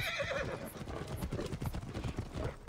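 Horses in an Assassin's Creed Origins game scene clip-clop in a quick, uneven rhythm while one neighs, all close and moderately loud with no talk over them.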